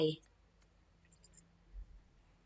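A single computer mouse click comes at the very start, short and fairly close, followed by near silence with a faint low hum.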